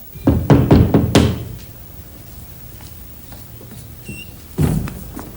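Knocking on a door, a quick burst of several loud raps followed by a quiet pause and then another heavy knock, close and clear with no talking.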